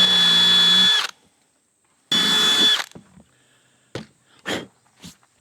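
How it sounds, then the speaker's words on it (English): A handheld power drill over-drills bolt holes to fix a fitment issue: two loud whirring bursts of about a second each, separated by silence, then a few short clicks and knocks. "I'm over drilling my holes just a little bit"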